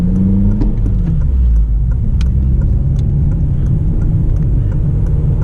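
A Honda Civic Si engine hums steadily up close, its revs falling away after a brief rise, with a rumbling, whirring drone running throughout.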